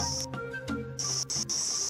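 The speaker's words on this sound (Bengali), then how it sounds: "এটা হচ্ছে সেগুন পাতার শব্দ আর সাথে ঝিঝি পোকার শব্দ" Crickets chirp in a lowland rainforest in Lawachara, Moulvibazar, their shrill trills cutting in and out in bursts over the soft rustle of teak leaves, heard close with no talking.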